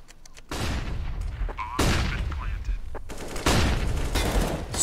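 Counter-Strike match on the Nuke map with bursts of gunfire and flashbang detonations, loud and dense, repeated cracks and booms stacking over several seconds, with a caster's voice running over the action.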